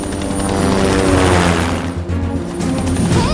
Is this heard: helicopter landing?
yes